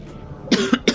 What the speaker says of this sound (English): Oh no, you coughed 2 times.